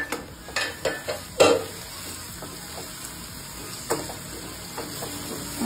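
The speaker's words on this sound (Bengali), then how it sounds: "টমেটো পেস্টটা ভালো করে মিশিয়ে দিচ্ছি মশলার সাথে। এবার ভালো করে কষিয়ে নেব 2-3 মিনিট।" Spice paste mixed with tomato paste sautés in a pan for a tomato chicken dish. A few sharp utensil scrapes and clinks come close up at first, then settle into a faint steady sizzle.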